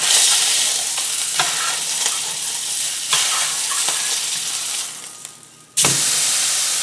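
A wagyu steak frying in a pan, a loud, close, continuous sizzle and hiss with occasional stirring or shifting bumps, briefly quieting before the sizzle surges back sharply near the end.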